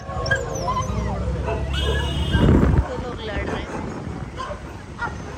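Several dogs bark, yip and whimper close by in welcome beside a Mahindra Thar, with people talking throughout.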